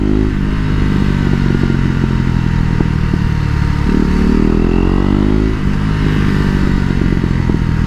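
A KTM RC 390 sport motorcycle rides under steady engine drone, with its exhaust crackling out small pops and shifting revs throughout, loud and close from the rider's position.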